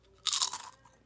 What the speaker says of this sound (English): I hope my chewing doesn't affect you guys too much.